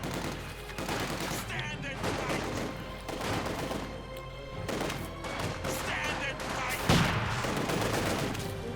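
Light machine gun fire in the Company of Heroes 2 strategy game, dense rattling bursts of automatic gunfire that come in repeated waves with heavy impacts and crashes, loud and continuous throughout.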